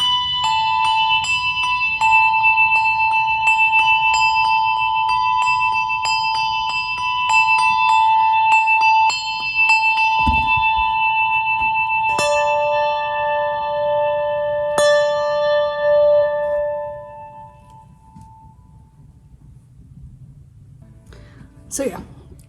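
Handbells ring out in a music department setting: a bright, repeated tone sustains with rhythmic strikes, then a couple of lower bells sound and ring down into quiet, with a faint clatter at the end.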